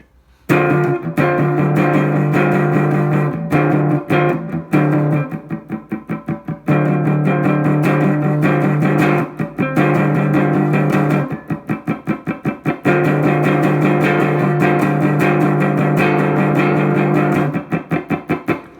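Distorted electric guitar chugs out a driving rhythm part, loud and steady, with short choppy stabs breaking up sustained chords.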